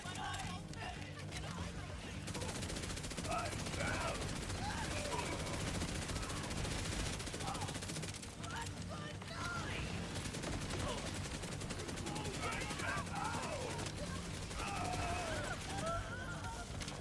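Rapid submachine gun bursts fire continuously in a looter-shooter video game against Vex enemies, loud and dense throughout with occasional talk mixed underneath.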